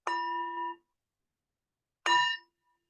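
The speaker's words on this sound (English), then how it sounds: "with fading the sound of the bell" A meditation bell is struck twice, about two seconds apart. Each clear, resonant tone rings briefly and fades into silence.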